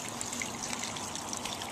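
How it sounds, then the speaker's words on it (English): Water pours and trickles steadily into a makeshift tub made from a tarp, a continuous bright splashing stream heard close up and alone for a brief moment. "Just going to fill it up with water and soak them overnight."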